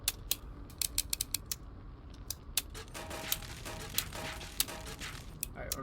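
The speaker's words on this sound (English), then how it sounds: "Actually we'll make some ammo." Ammo crafting in the video game Metro Exodus: a rapid series of close mechanical clicks, ratchets and metallic clacks, sharp and rhythmic over a low background.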